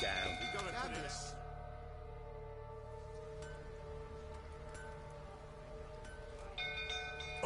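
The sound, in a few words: bell ringing in a video game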